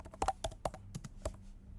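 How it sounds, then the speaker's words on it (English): Quiet, close computer keyboard typing of a search, a short run of about six crisp keystrokes in an uneven rhythm with no talking. "Just go to your Google and type"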